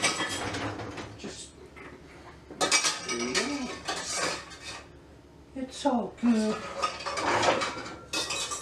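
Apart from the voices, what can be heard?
washing dishes and cutlery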